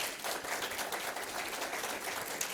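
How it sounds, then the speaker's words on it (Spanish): An audience claps steadily and densely throughout, a continuous wash of applause heard from within the crowd at moderate level. "Aplauso para Héctor, por favor"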